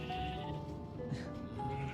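A Minecraft sheep gives a short bleat over steady in-game background tones, fairly close and clear, with no other voices.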